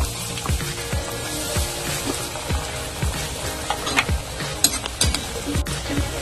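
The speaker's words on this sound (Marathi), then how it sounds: "असे मिक्स करून आता यांना आपल्याला डीप फ्राय करून घ्यायचे" A spiced potato mixture for aloo chaat deep-fries in hot oil in a kadhai over a medium flame, with a dense bubbling sizzle broken by repeated sharp clicks and scrapes, close up and without talk.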